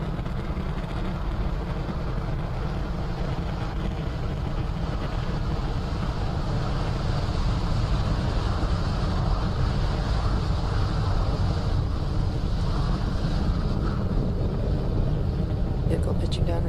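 A SpaceX Falcon 9 rocket climbing during launch gives a constant broad rumble and roar, steady and heavy in the lows, with a voice calling out over it almost the whole time.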